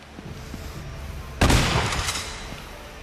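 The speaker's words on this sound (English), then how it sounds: "And now he's got a shotgun." Shotgun fire in Uncharted: Golden Abyss on PS Vita, a single loud blast midway that decays into a rumbling echo over quiet background game noise.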